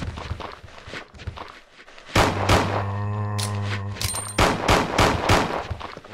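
Gunshots in Resident Evil 2: scattered quieter impacts and footsteps give way to a loud run of sharp, closely spaced shots with booming echoes.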